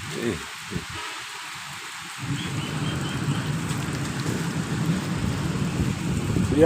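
Steady rain falls outdoors in a park, a dense broadband hiss that swells after the first couple of seconds and continues loud and unbroken, with faint background rustling.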